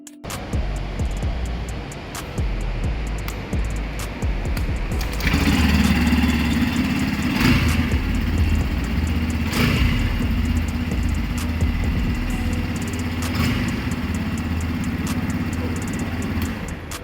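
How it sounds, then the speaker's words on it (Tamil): Yamaha FZ-S Hybrid motorcycle idling at its exhaust, a steady close rumble that firms up after a few seconds, with several brief revs rising over the idle. "சரி வாங்க இப்போ இந்த வண்டியோட வந்து எக்ஸாஸ்ட் வந்து நம்ம பார்க்கலாம்."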